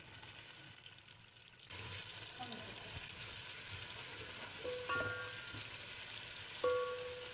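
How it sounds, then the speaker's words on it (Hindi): Onions hit hot oil in a heated pot for an aloo baingan sabzi, a sudden hissing sizzle that then holds steady, with a few faint clinks over the top. "प्याज को अच्छा भुनना है हमें गोल्डन होने तक"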